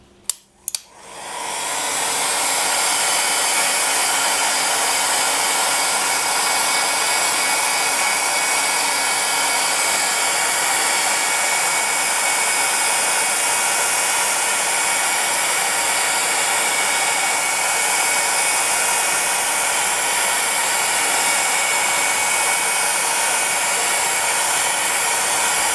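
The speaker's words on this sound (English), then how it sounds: "use a hairdryer or a heat gun on its lowest heat setting to gently coax it along" After a brief click, a steady, loud blower hiss starts up and runs continuously with no pauses, from a heat gun on its lowest heat setting warming polymer clay.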